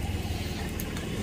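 A car or other motor vehicle passing at a campground in Arlington, Vermont, a steady moderate engine rumble over its short span, with no talk.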